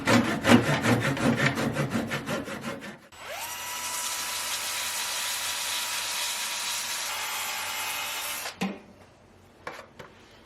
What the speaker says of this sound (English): I'm going to try and saw that thing off of there. With a 100-year-old handsaw.